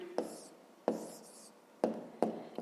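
Answer to a fifth-grade math exercise written by hand, heard as four short scratchy bursts of pen or chalk strokes separated by brief pauses, close and fairly quiet, with no talking.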